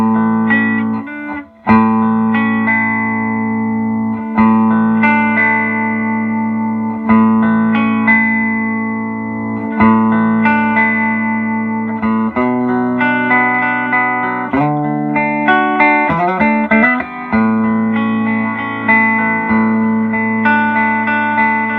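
Electric guitar through a 1968 custom Fender Princeton Reverb amp fitted with JJ tubes, its reverb turned up, playing ringing chords and single notes with a lush, washy tail, loud and alone without talking.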